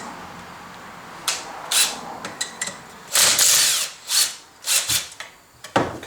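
A hand ratchet or power tool loosens a clamp on a Ford 6.0 turbocharger, heard as close, loud bursts of whirring and ratcheting separated by short pauses.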